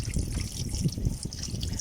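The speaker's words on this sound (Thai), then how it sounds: "เปิดไว้น้ำไหลมาเรื่อยๆเห็นไหม" Water trickles and gurgles steadily from an opened car radiator drain, a soft continuous flow close by with no speech.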